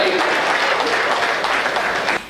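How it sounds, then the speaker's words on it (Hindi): A crowd at a Hindi comedy show breaks into sustained applause, a loud, dense clatter of many hands that fades slightly and cuts off near the end. "अरे आई तो जरा तालियों से बताओ कि समझ में आई"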